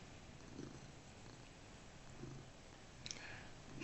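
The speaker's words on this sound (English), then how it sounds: "Can you guys hear the cat purring on the side? She's sitting next to me." A pet cat sitting right beside a person purrs softly and steadily, a low rhythmic rumble close to the microphone, with a faint click near the end.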